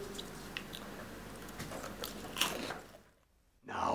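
A close, crisp bite into an Oreo cookie followed by crunchy chewing, several sharp crackles over a few seconds before a short quiet pause and a burst of louder sound at the end.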